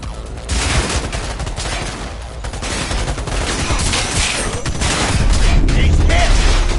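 Dense, continuous gunfire from a Cyberpunk 2077 firefight, volleys of shots overlapping into a loud sustained barrage that builds toward the end, with voices shouting faintly underneath.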